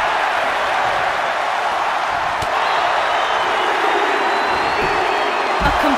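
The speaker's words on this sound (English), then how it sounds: "Listen to this crowd count the next one in." A wrestling arena crowd roars during a royal rumble–style match, a loud, continuous wash of cheering and chanting with a few whistles and whoops, distant thuds underneath; no clear count is distinguishable.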